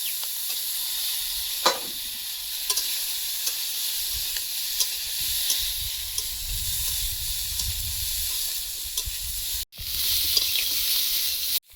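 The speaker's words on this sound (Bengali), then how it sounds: "এবার বেগুনটা দিয়ে আরেকটু ভেজে নেব।" Eggplant fries with salt and turmeric in a pan outdoors, making a steady, close, hissing sizzle. Light scraping stir strokes come and go, and a short cut breaks the sound near the end.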